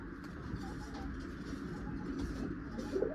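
Pigeons cooing at a pigeon seller's, a low continuous murmur of several birds close by with soft overlapping coos and no talk.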